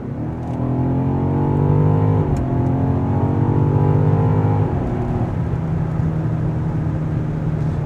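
A 2024 BMW XM plug-in hybrid performance SUV accelerates hard, its engine note climbing through two gear changes before settling into a steady cruising hum, heard from inside the cabin without talk.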